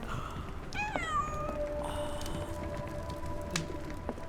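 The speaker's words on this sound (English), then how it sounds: "I heard a cat." A cat meows a few times in the video game Sherlock Holmes The Awakened, with clear rising and falling cries over a steady background ambience.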